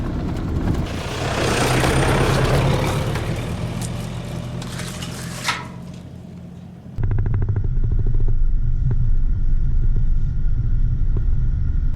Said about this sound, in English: I'm gonna drive it slowly for there are too many branches on the sides and on the ground